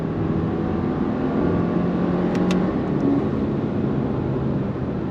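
A 2024 Subaru Impreza RS hatchback is heard from inside during braking and a left-right transition, with a steady, loud broadband road and engine rumble and no speech.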